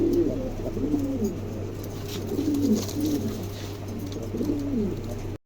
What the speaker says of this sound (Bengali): চমৎকার এক জোড়া কবুতর, ভালো লাগলে অবশ্যই সংগ্রহ করতে পারেন